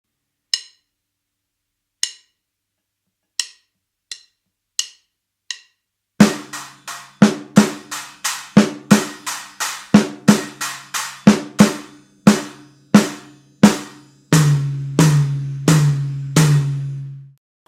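A drum and bass lick played on a drum kit with snare, tom and a stacker cymbal. Sparse single hits come first, then a dense, loud rhythmic pattern of sharp strikes with ringing, trashy cymbal decays, played close and alone.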